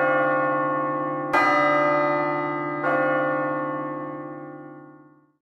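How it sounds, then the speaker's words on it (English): Church bells ringing out for Christmas Day, two resonant strikes a second or so apart, each leaving a long humming tail that fades slowly to silence. "bells began to chime"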